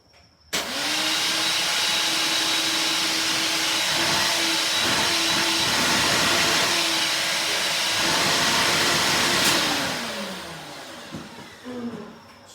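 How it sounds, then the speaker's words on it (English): A Ryobi OnePlus cordless wet/dry vacuum switches on with a sharp start and runs at a steady, loud whine with a constant motor tone, then winds down and cuts off near the end. "I will tell you, this vacuum has got some serious power."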